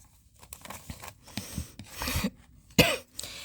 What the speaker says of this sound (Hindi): आज मुझे खांसी भी ज़्यादा ही हो रही